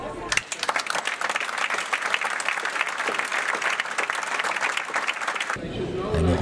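Loud, dense applause fills a United Nations assembly hall as a candidate is elected by acclamation to preside over the 79th session, sustained for several seconds before cutting to a different, quieter sound at the end.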